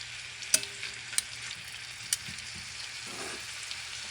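Beef frying in about a tablespoon of oil in a pan for sukiyaki, a dense, steady sizzle broken by a few sharp utensil clicks and light stirring, close and alone without talk.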